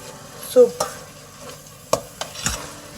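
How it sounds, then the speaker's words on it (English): Corn chowder stock being stirred in a pan, a few distinct scraping and clinking strokes of a utensil against the pan, close and fairly loud with short quiet gaps between them. "just give it a stir like this"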